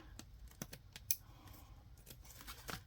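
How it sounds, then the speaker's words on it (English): Older craft scissors snipping through paper during a full-page art journaling session, heard as a few quiet, crisp cuts spread across a soft, low background. "I'm going to get the older scissors to cut this with"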